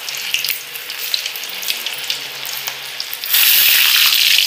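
Cauliflower florets for Gobi Manchurian drop into hot oil, and a steady crackling sizzle builds abruptly into a loud, dense hiss near the end.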